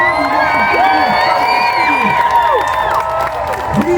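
A Renaissance fair crowd cheers, whoops and claps loudly and nearby, with shouts rising and falling over a steady roar for the full stretch.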